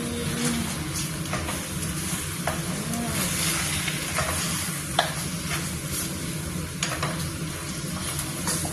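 Chicken adobo sizzling in a pan while being stirred, a loud steady fry with repeated scrapes and clacks of the utensil against the pan, with no talk.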